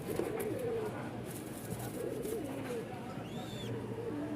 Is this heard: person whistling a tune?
no